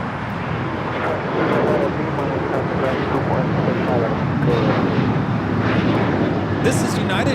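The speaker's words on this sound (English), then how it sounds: "This is United 1017 taking off to Phoenix on the 737-800 in the Star Alliance livery" United Boeing 737-800 in Star Alliance livery taking off from Los Angeles airport for Phoenix, a broad roaring jet engine rumble that builds and holds steadily, with a person talking over it.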